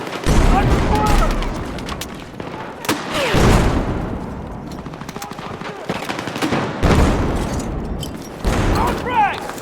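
Rapid bursts of automatic gunfire and heavy explosions crackle through a Battlefield 6 multiplayer match at Hagental Base, loud and near with repeated volleys, while voiced callouts sound over the battle.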